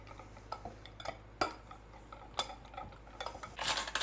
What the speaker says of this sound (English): Now we're going to mix up our butter and our chocolate.